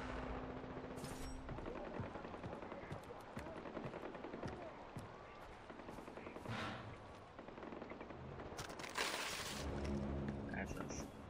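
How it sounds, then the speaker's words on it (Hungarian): Gunfire in the video game Far Cry 4: scattered shots and bursts of automatic fire crackle in the distance and nearby amid in-game ambience, fairly faint overall, with someone talking over parts of it. "Na lássuk, hol lövöldöznek olyan nagyon."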